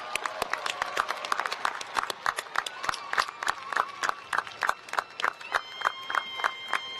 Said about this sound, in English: can we give the class of 1971 another round of applause?